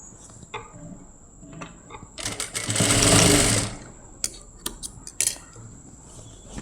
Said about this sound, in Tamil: இதை நாம் இப்போ படிமான தையல் போடலாம்